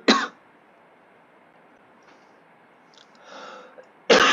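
Someone narrating a train simulator session coughs twice, one short harsh burst at the start and another at the very end, close to the microphone, with quiet room tone between.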